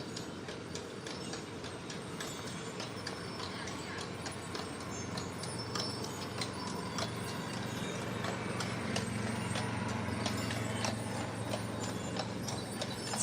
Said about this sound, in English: we're gonna wait for the horse to pass